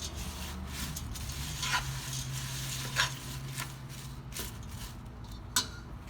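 Flattened rice (poha) and curd being gently mixed by hand for gopalkala, a Janmashtami dish: soft, quiet squishing and rubbing with a few light taps, steady and close.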